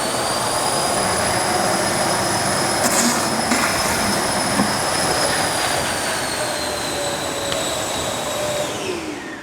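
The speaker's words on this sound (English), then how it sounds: "Here's the Milwaukee. Significantly louder." A Milwaukee wet/dry shop vacuum runs loud and steady for the whole stretch, a dense whooshing roar with a high whine, the tone sagging slightly near the end; no talking.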